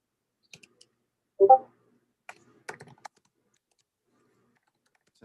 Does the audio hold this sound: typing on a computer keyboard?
yes